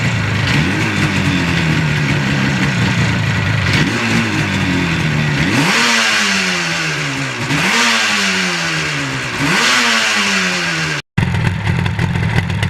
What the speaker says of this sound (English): We're idling at 1200.